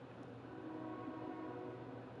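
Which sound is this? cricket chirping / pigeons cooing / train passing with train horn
train passing with train horn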